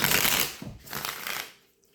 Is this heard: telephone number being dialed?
no